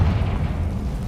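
The Confringo spell exploding in Hogwarts Legacy, a single deep, loud boom with a dense low rumble filling the whole moment.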